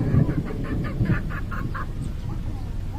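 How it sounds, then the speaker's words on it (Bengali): Ducks and chickens around a coop at a rural village house make a rapid series of clucks or quacks, moderately close, with murmured background talk and outdoor noise. "হাঁস মুরগি এটা একটা মুরগির খোপ"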